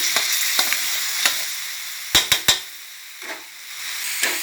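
Pork belly with red curry paste and young coconut shoots is stir-fried in a hot pan. There is a steady close sizzle with a few sharp scrapes and clanks from the spatula stirring, and no talking.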